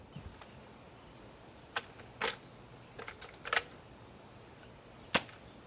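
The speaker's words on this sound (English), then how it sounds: "Had to fire my modified silenced one because it's neat." Several sharp, quiet pops from a modified, silenced Nerf blaster at a range, spaced irregularly with faint mechanical clicks, fairly close and alone without talk.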